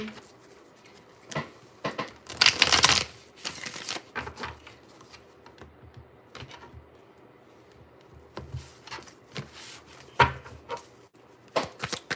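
Tarot cards riffle and slap together in a brief burst, followed by scattered soft taps and shuffling handling noises in a quiet room.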